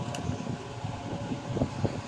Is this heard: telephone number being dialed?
no